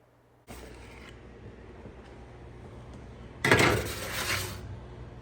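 Vegan eggplant casserole being scraped and spooned from a bowl into a disposable pan, with a soft steady scuffle followed by a louder burst of crinkling, scraping foil-pan noise near the end.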